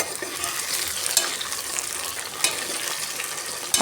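Chopped tomatoes frying in a pan for Konkan prawn rice, a dense continuous sizzle with a few stirring clicks, close and steady with no talk.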